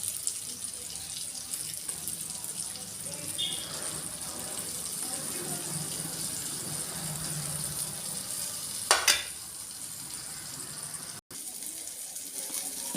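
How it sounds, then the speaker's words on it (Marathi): Fish fries in a little oil on a flat iron griddle over a gas flame, a low, steady sizzling hiss with a brief clatter partway through and a voice faintly underneath. "हे बघा, फ्राय होते त्याची."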